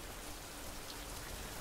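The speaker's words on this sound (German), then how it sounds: "Nein, nicht schon wieder Regen." Rain in the survival game Survival: Fountain of Youth, a steady dense hiss of rainfall, faint and continuous with no other sounds.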